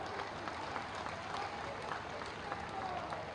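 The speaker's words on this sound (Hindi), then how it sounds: "सबसे बुजुर्ग नेता के लिए ताली बजा दीजिए" A crowd applauds steadily at an NDA party workers' gathering in Patna, a dense continuous wash of clapping for the senior leader with faint voices mixed in.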